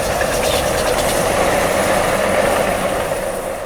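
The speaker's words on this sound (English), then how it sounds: "we grabbed a handful of sounds like this train passing" A passing train recorded in stereo, a dense steady roar of wheels and rail noise with faint clickety-clack, loud and close for a few seconds before beginning to fade.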